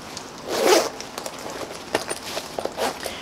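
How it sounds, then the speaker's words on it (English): A leather Brando jacket is zipped up close by. The zipper gives one long rasping pull, then a run of short catches and clicks as the flap and pull are worked into place. "when you're trying to zip them, the flap kind of comes out"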